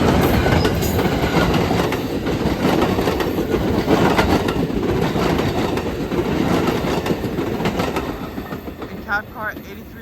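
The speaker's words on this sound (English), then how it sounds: "This is your Amtrak San Joaquin train 713, your train to Oakland, Jack London Square." An Amtrak San Joaquin passenger train led by CDTX locomotive 2107 passes close by, a loud continuous rumble and clatter of wheels on rails with a brief squeal near the end.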